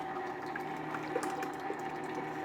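Ice cream mixture pours steadily into a running ice cream maker, a continuous splashing wash over a low mechanical hum, with no voices.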